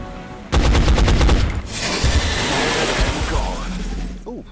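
Machine gun fire in the video game XCOM 2: a loud, rapid burst of shots for about a second, then a rumbling crash of debris that fades.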